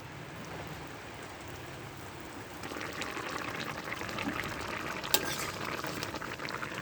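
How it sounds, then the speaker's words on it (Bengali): A pot of fish curry with eggplant, puti and tilapia fish added, simmers and bubbles steadily, a close, continuous crackling fizz that grows fuller partway through, with one sharp clink near the end. "মাছ দেওয়ার পরে আমি 2 মিনিটের মতো ফুটিয়ে নেব।"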